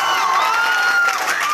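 An audience cheers and shouts together in a loud, sustained roar of mixed voices, with a few higher yells rising above the crowd for the whole brief moment.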